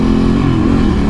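A Ducati Hypermotard 796 supermoto engine pulls away under throttle on a test ride, a steady, loud, close rumble with no talk over it.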